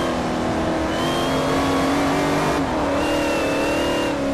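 A Saleen S5S sports car in the Forza 4 racing game accelerates hard out of a corner in third gear, its engine droning loudly and steadily throughout, with the pitch climbing, dipping briefly and climbing again.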